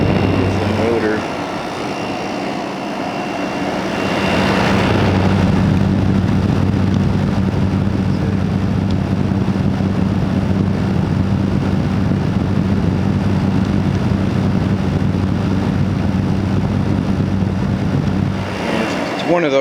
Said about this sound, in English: I think it's like a no-name Chinese fan motor